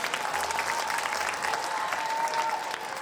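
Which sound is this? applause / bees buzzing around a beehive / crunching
applause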